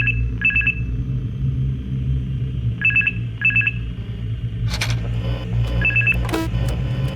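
A telephone rings in a horror video game, giving paired bursts of electronic trilling that repeat several times over a deep, constant rumbling drone, with a couple of sharper clicks near the end.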